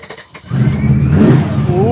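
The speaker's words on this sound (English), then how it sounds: "she's going to start this." A 1985 Chevrolet C-10 hot rod pickup engine cranks briefly, then catches and settles into a loud, rumbling idle with a few throttle rises, heard up close.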